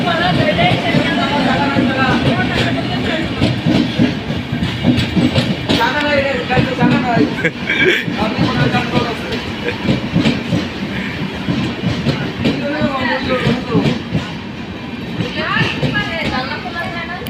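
A train rolls past close by with a loud, sustained rumble and rhythmic clickety-clack of wheels over rail joints, while people talk and laugh over it.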